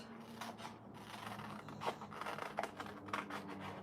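Scissors snip out a large summer-baking sticker for a journal, giving close, soft rustling cuts with a few sharper snips toward the end.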